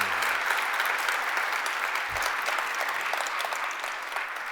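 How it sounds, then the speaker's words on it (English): A crowd gives a resounding round of applause for the health service during an acceptance speech, a thick, even roar of many clapping hands held at a steady, fairly loud level throughout. "if you will now just give a resounding round of applause to"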